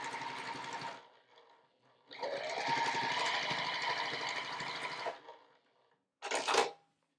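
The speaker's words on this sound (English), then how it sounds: "just sew a 1/4 inch seam along here" A sewing machine runs a quarter-inch seam along quilt pieces, a short burst of stitching, a pause, then a steady three-second run of fast mechanical whirring, and finally one brief burst, close and clear with no talking.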